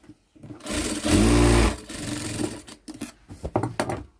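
Stitching a churidar pant joint, a sewing machine gives a loud, close, steady whir lasting about a second, followed by rustling fabric handling and light clicks.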